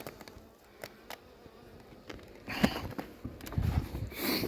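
Honeybee colony clustered inside a hive in mid-February, giving a low, soft buzzing hum with faint scattered insect sounds, swelling louder toward the end.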